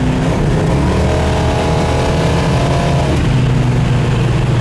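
A 1970 Dodge Dart Swinger accelerating hard at highway speed, heard from inside the car: a loud, steady engine roar that drops briefly in pitch as it shifts, then pulls on, with no speech.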